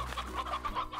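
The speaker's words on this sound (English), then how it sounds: "That rooster's still looking good." A rooster in the video game Slime Rancher gives a short burst of repeated clucks, fairly close and clear, with a soft game background underneath.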